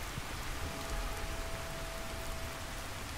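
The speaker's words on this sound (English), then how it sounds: "it's raining out of freaking nowhere. It just suddenly rained." Steady rain falling, an even hiss of drops filling the whole clip with a faint constant tone running beneath it.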